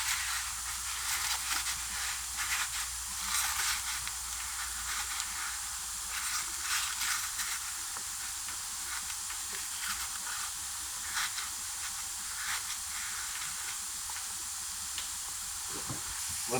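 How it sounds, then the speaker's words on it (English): Compressed air hisses steadily from a nozzle into the cracks and crevices of a Chevy Silverado Duramax truck's interior, a bright, close, continuous blast with small pulses and no talking. "A little bit of compressed air will get in all the cracks and crevices"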